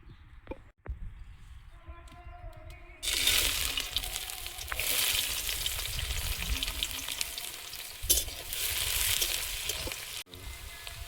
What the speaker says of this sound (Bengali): তেলটা গরম হয়েছে, তেলের মধ্যে দিয়ে দেব এই আদা, রসুন, পেঁয়াজ, কাঁচা লঙ্কা, কাজু বাদাম।